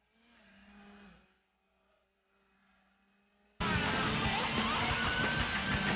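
Mazda RX-7 race car in Gran Turismo on PS1, faint engine hum at first, then a sudden jump to a loud, dense, steady engine roar that runs to the end with no talk.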